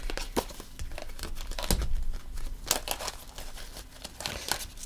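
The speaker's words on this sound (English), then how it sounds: "I'm going to reshuffle those." Tarot cards shuffled by hand at close range, a quiet run of papery riffles, crinkles and soft slaps in irregular bursts with no voices.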